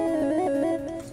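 Chiptune synth lead from the drop, a bright, buzzy square-wave melody with quick pitch bends, a brief phrase playing alone at moderate volume.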